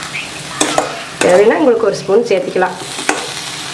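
A coconut and jaggery cake mixture is stirred in a pan with a spoon, giving scraping and soft sizzling sounds with a few sharp clinks, while someone speaks over it.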